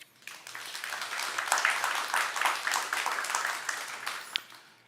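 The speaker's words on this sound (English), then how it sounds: "So please give our panelists a round of applause." An audience at a climate security panel event in East Central Florida gives the panelists a round of applause, clapping swelling quickly, holding strong for several seconds, then tapering off, with no voices over it.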